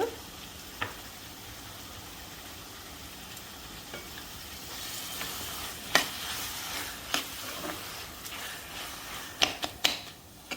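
Chicken frying in a pan for coconut chicken curry sizzles steadily and softly, and scattered clicks and scrapes of stirring grow more frequent toward the end.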